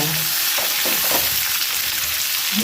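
Cumin seeds crackle and sizzle in hot oil with dry masala, a steady dense frying hiss with occasional stirring scrapes for a few seconds.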